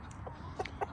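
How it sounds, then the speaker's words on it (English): Chickens on a rural property give a few short, soft clucks, scattered and close, over a low background hum. "But I'm out here with the chickens."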